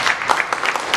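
A church congregation at a Sunday service breaks into a brief burst of clapping, close and fairly loud.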